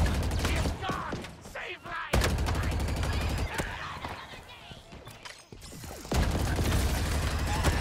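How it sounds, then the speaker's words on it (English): A plasma cannon fires in Halo Infinite, loud close bursts of heavy rapid shots that come in several long runs with brief gaps between, while a voice talks over the action. "This plasma cannon, you guys."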